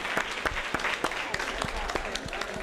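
A small group in a social justice teaching session claps, sharp separate claps ringing out at an uneven rhythm, fairly close and moderately loud with no voices on top.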